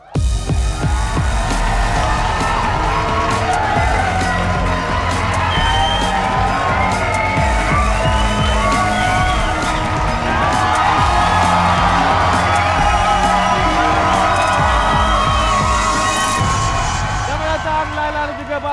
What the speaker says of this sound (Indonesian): Berikan tepukan gemuruh untuk Balqis dan Laila